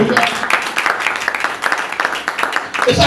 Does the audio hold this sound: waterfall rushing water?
no